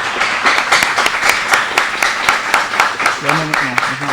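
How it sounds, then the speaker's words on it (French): Audience at a high school debate match between two lycées applauding the jury of qualified teachers, a steady dense patter of many hands throughout, with a voice speaking briefly near the end. "je vous demande de les applaudir"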